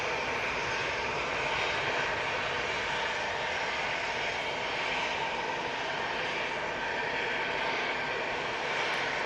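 TUI jet airliner taking off, engines producing a sustained broadband roar that holds steady and fairly loud throughout, with slight swells and no voices.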